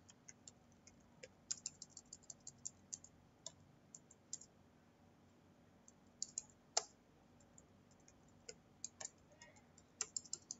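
Irregular bursts of close computer-keyboard keystrokes while writing PHP code, quiet clicks coming in quick runs with short pauses and no speech.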